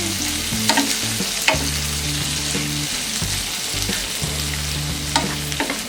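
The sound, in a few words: vegetables with salt frying on low flame for white sauce pasta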